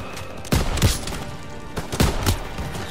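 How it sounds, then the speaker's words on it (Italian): Heavy gunfire and cannon blasts in a Call of Duty: WWII battle, with two loud, booming bursts about a second and a half apart over a constant rumble of distant combat. "Quel cannone spara ancora!"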